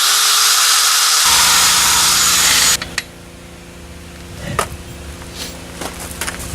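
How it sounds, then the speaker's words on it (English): A die grinder with a small bit runs loud and steady for nearly three seconds, hogging out a hole in metal for a buggy lift kit, then cuts off and leaves faint shop noise with a brief clank. "so I just take this die grinder. It's got a little bit on it. Finish hogging it the rest of the way out."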